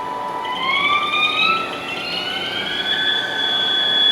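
Haas ST-40 CNC chucker lathe, 2012, spindle spinning up to about 400 RPM in high range: a steady tonal whine with harmonics that rises in pitch over the first seconds, then holds a constant, fairly loud machine tone.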